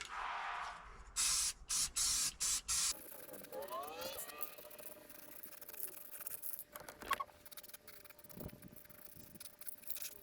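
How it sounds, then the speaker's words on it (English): A rattle can sprays paint onto Detroit engine parts for a cab-over truck in several short, sharp hissing bursts close to the microphone, followed by quieter workshop clinks and faint movement. "Well, there's a rattle can rebuild."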